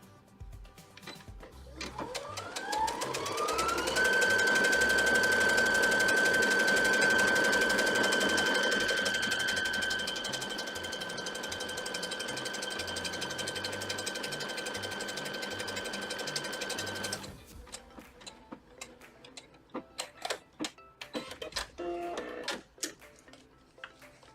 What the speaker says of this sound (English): I'm just going to go ahead and sew.